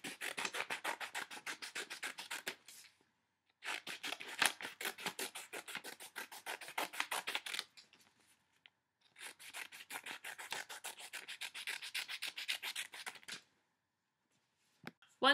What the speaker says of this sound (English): I cut it into strips.